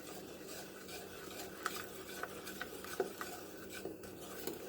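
Sugar and butter melting in a saucepan are stirred steadily, with a soft continuous scraping and occasional light clinks of the spoon against the pan, fairly quiet and close.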